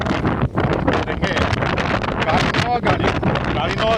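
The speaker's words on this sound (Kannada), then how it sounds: "ಗಾಳಿನೋ ಗಾಳಿ" Strong wind buffets a Samsung phone microphone outdoors at a coastal citadel on Gozo, a loud continuous rumbling roar with gusty bursts, while a person talks underneath.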